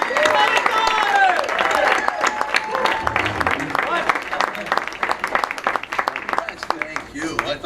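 An awards-ceremony audience applauds a Rising Star honoree at the 2016 LIIFE Awards, steady clapping running throughout with a voice talking over it.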